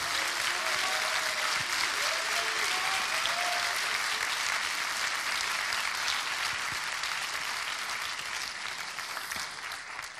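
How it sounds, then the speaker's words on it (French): Warm, sustained applause from a concert audience at a school prep concert, dense continuous clapping that stays loud throughout and eases slightly toward the end. "Chaleureux applaudissements également."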